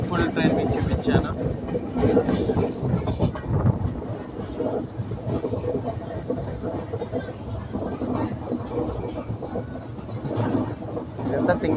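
Passenger train on a single track in India, curving through a long bend, a steady loud rumble and rattle of wheels and wagons throughout, with someone talking over it.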